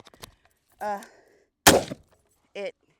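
Bolt of a PSA Sabre-10A1 .308 AR10 rifle with a 16-inch barrel being worked by hand, giving a sharp metallic clack and slide; a loud burst of mechanical noise stands out between short voiced bits.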